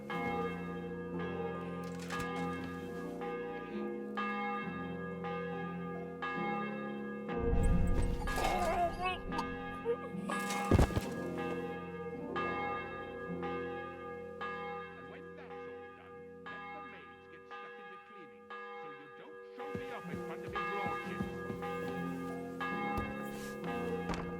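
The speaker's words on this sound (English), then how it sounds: "The bell's ringing for Hans the 5th time" A church bell rings repeatedly with a steady, resonant tolling through the whole stretch, heard over music, with a loud crash midway.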